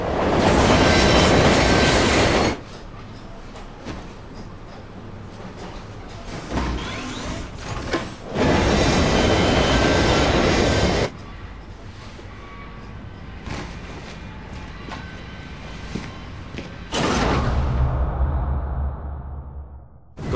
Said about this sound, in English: Once inside, you should be able to get a visual on a large train.